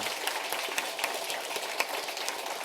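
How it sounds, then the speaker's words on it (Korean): A church congregation applauds its praise team with dense, continuous clapping from many hands, evenly sustained and fairly distant across a short stretch. "우리 찬양단원에서 박수로 한번 격려해 주시기 바랍니다"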